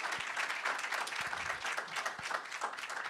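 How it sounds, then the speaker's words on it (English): An audience at an evening candidate forum applauds the candidates, a dense sustained round of clapping from a crowd in a hall that continues throughout. "how about a round of applause for all of the candidates here tonight?"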